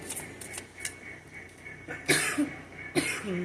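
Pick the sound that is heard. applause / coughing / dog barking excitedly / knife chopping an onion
coughing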